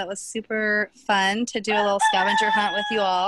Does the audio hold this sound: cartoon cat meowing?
no